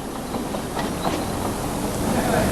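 Old train running on the Normanton railway in remote outback Australia, a steady rumbling roll with faint clickety-clack of wheels on rails, continuous and fairly close throughout.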